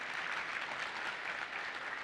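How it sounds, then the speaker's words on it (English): An audience applauds with dense, steady clapping that fills the whole two seconds at an even level. "Give him a warm round of applause"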